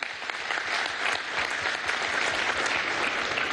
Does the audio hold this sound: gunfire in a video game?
no